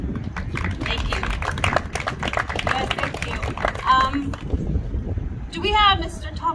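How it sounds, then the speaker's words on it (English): An audience at a Kaiser health fest event in Lancaster, California, applauds in a dense, steady burst, fading out, followed by a few brief vocal sounds near the end. "give yourself a big applause because you guys are also important for being here today"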